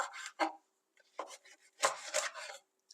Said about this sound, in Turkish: Bu seferki mezemizde biberlerimizi halka halka doğruyoruz.